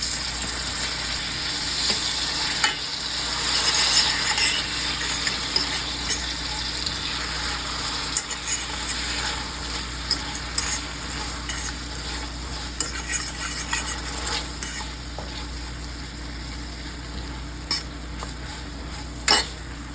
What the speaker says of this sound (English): I think I want to add back in the butter. So I'm just going to add back in a little bit of butter